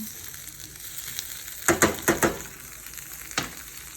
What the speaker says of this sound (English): so the butter's melting